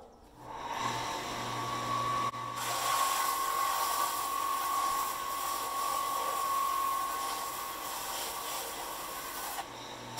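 A spindle sander grinds down a wooden bow blank. A steady, loud abrasive whir with a thin whining tone runs continuously for several seconds and then eases off at the end.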